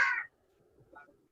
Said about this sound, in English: I can hear a bird squawking.